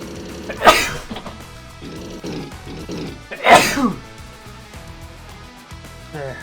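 Two sharp sneezes burst out about three seconds apart, close and loud, over steady background music or sound from the game Advance Wars.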